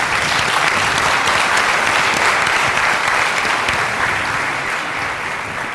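An audience at a Turkish music performance applauds a singer with a loud, dense, sustained round of clapping that holds steady throughout and eases only slightly near the end.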